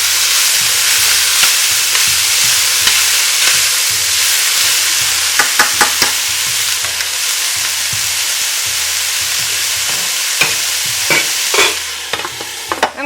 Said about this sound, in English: to saute all of this till it starts to soften just a little